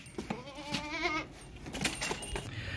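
At a goat market, a goat lets out a single short, wavering bleat close by, set among faint clinks and rattles with no one talking.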